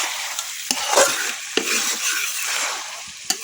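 Meat frying with cumin powder in a pan is stirred steadily, giving a constant sizzle broken by a few scraping clicks of the utensil, close and fairly loud, with no talking.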